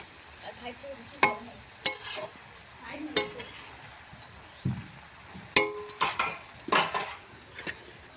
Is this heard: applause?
no